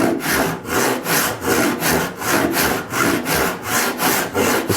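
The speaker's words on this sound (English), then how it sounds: "The saw has a distinctive sound whenever it's going the correct speed and you're not forcing it." A handsaw crosscutting wood in hand-tool woodworking, at an even speed with no forcing. About nine rhythmic rasping strokes come back and forth at a steady pace, close and loud, with no talking.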